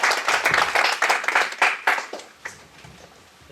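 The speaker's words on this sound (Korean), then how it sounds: "박수로 보여주십시오." Audience applause at a corporate open house event welcoming a presenter, a loud burst of clapping for about two seconds that tapers into a few scattered claps and fades.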